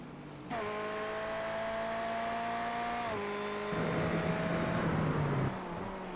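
A Ferrari race car in a racing video game at Laguna Seca, its engine droning loud and steady with tonal shifts as it changes gear, running alone with no talk.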